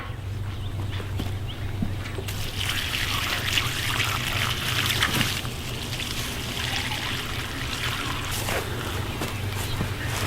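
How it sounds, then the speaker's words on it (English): Water trickles steadily while pepper plants are watered in after transplanting in a garden, a continuous soft dribbling that runs close by the whole time with no talk. "Be sure to water your pepper plants when you transplant them very well"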